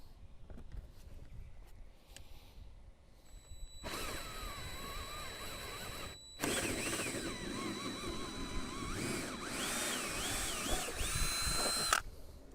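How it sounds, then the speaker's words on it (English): A power drill bores a bigger hole through the fiberglass and wood of an RV roof. After a quiet start it whines, pauses briefly, then runs loud and strained with shifting pitch until it stops near the end. "drill a bigger hole coming up now that we know we're safe coming up through and there's no wires"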